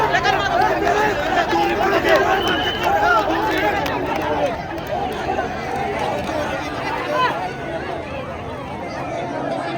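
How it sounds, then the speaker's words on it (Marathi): A dense crowd of pilgrims packs Dive Ghat on the road from Pune to Saswad during the palkhi procession, a loud, continuous babble of many voices that stays near and steady throughout. "फुल गर्दी."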